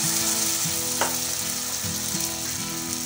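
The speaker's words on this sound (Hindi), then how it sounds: "तेल हमारा गर्म हो गया। अब मैं इसके अंदर थोड़ा सा बैटर डाल दूँगी।" Chickpea batter sizzles and fries steadily in about four tablespoons of hot oil, a continuous close crackle with a brief sharper burst early on, no voices.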